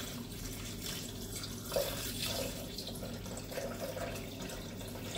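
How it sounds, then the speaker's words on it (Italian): Water being poured into a Bimby TM6 bowl with chopped tomatoes for goulash soup, a steady close trickle and splash running throughout with no one talking. "E 700 g di acqua a temperatura ambiente."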